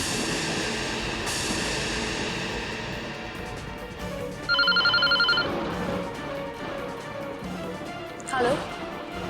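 A telephone rings indoors, a short bright repeating trill rising out of a noisy background of voices and ambient sound, followed by a brief second chirp.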